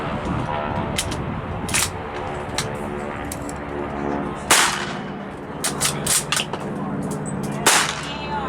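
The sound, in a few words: open-bolt gun firing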